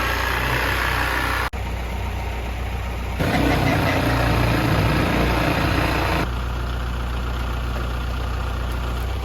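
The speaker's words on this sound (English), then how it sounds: "Now we're using the old tractor to pull the deck off." An old tractor engine idles steadily and loudly nearby on a tobacco farm, its rumble swelling for a few seconds in the middle before settling back to a low drone.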